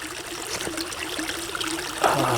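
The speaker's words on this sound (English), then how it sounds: "The water is flowing around that stone." Creek water trickles and burbles around a stone, a steady close stream of small splashes and gurgles with a slightly brighter splash near the end, no voices.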